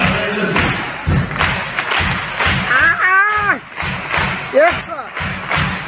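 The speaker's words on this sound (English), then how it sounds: "Three claps, all right?" Group of people doing the Lowcountry Charleston clap in a hall, loud rhythmic bursts of hand claps repeating in steady groups, with voices and singing over them.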